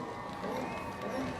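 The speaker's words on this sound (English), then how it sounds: "will you please give a huge round of applause in Riga for James Dean" A crowd cheers and roars at a drifting event, the DMEC Round 3 in Riga, as a steady wash of broad noise with voices mixed in.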